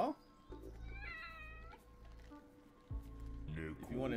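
A cat meows in the anime Chainsaw Man, several short pitched cries in quick succession heard fairly clearly over a low background hum, with voices talking around them.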